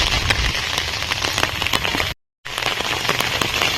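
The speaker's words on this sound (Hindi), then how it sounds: "ବର୍ଷା ଛାଡ଼ିନି" Monsoon rain pours steadily onto surfaces, a dense continuous patter with sharp individual drops, broken by a brief silent gap.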